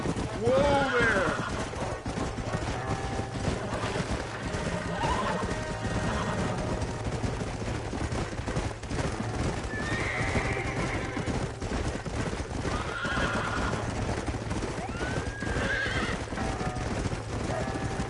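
Horses in the Western video game Red Dead Redemption whinny and clop their hooves through a dense, continuous game soundscape, with neighs rising at intervals over steady hoofbeats and ambient noise.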